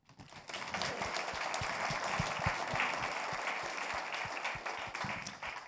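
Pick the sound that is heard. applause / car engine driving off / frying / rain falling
applause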